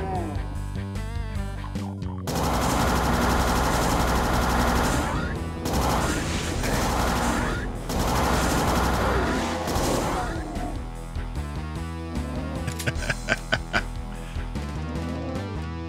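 Weapon fire in the Doom WAD SIGIL II, inside a trap room holding a red key and a rocket launcher: a loud, dense stretch of shots and blasts with crashing game effects, then quieter scattered sounds and music toward the end.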